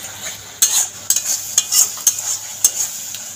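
Spice paste for aloo dum being stir-fried in a pan, with a steady sizzle broken by several sharp scraping strokes of a spatula at irregular intervals, close and fairly loud.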